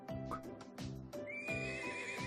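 A horse in the video game Trails of Cold Steel neighs loudly and close up in a long, wavering whinny. Hoof clip-clops and game music play underneath.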